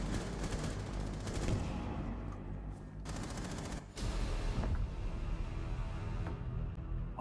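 Rapid automatic gunfire from the shooter video game Rainbow Six Siege, loud sustained bursts that run almost continuously with only brief gaps between volleys.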